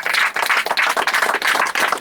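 A Sunday worship congregation in Indukurpeta claps together in a busy, rhythmic patter with irregular bursts, fairly close and steady with little talk.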